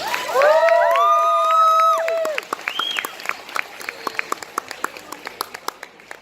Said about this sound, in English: Another round of applause for Honey Lemon, guys.